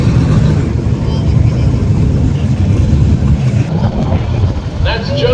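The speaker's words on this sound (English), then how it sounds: "The stick shift 4i turbocharged Mustang comes up next" A turbocharged stick-shift 2014 Ford Mustang drag racing at Tulsa Raceway Park, a loud continuous engine roar filling the whole stretch with crowd and track noise under a commentator's talk.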